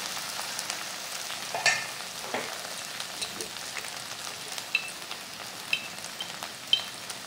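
Okra (bendakaya) frying in oil in a pan with turmeric and chilli powder, giving a steady, soft crackling sizzle throughout, with a few sharper pops and light stirring scrapes, no voices.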